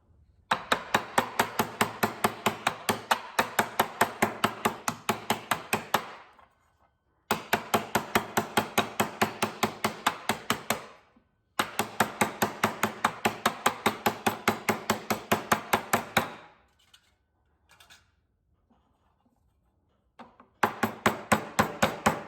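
A hammer strikes metal repeatedly while a cookware lid is being shaped, in fast, steady bursts of ringing taps that pause briefly between runs. The blows are close and even, and no one speaks.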